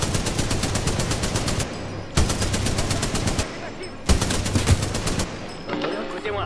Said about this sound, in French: Tiens, une mitraillette. Ah, pas mal, la mitraillette.